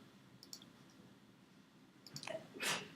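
A single sharp sneeze from a person bursts out near the end, preceded by a brief intake and a few faint clicks in an otherwise quiet indoor room.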